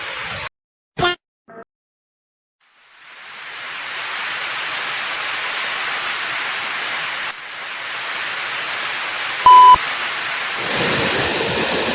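Heavy rain pours down steadily in a village, a broad continuous wash that begins after a few brief knocks and continues to the end, with a short tonal beep partway through.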